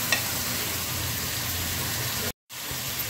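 Peeled, chopped tomatoes and green chillies frying in a pan for chicken pulao, giving a steady, close hiss and crackle that runs without a break except for one brief cut near the end.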